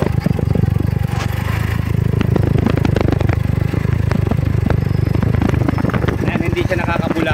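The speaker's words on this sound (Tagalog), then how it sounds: "pakinggan nyo po yung kanyang muffler" A Motorstar Easyride 150N scooter idles with a steady, deep muffled exhaust thrum close to the microphone, while someone talks over it throughout.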